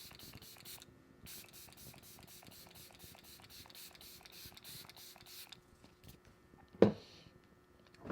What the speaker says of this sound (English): Now we're going to spray the face one more time with the Sephora spray.